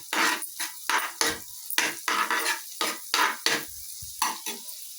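Egg frying for fried rice while being stirred in a pan, loud close scraping strokes in a quick irregular rhythm, each burst lifting the sizzle underneath, with short pauses between strokes.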